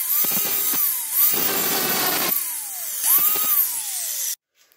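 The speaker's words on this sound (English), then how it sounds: "finished the polishing of this spanner from the factory Gedore, because this spanner is bended" A power tool polishes a bent Gedore spanner in three separate bursts, each a close, loud whir whose motor pitch rises and falls before cutting off sharply into silence.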